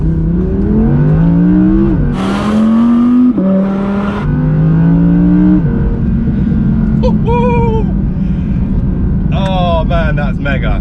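An Audi R8 rear-wheel drive's engine revs hard toward 8,500 RPM, a loud, close, climbing howl through repeated gear changes with brief drops between pulls, then settles to a lower drone, with someone speaking excitedly over it.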